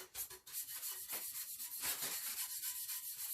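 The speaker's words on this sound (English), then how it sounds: "this is a very crucial first stage of any pyrography project, is sanding down the wood." Steady rhythmic rasping of sandpaper rubbed back and forth over wood, close and fairly quiet, with no voices.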